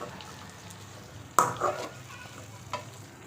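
Okra (bhindi) frying in a pan over medium-low heat gives a soft, even sizzle, with one sharp clatter of stirring near the middle and a lighter knock just after.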